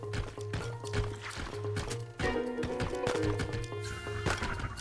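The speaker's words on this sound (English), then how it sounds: "What are you doing, you damn horse?" Horse in Zelda: Breath of the Wild, rhythmic hoof clip-clops at a steady gait under game music, fairly close and moderate in level.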